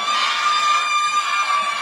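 Studio crowd at a Canal 13 party show cheers for contestant Sandra, a steady, fairly loud wash of shouting and applause with no clear peaks, heard alone.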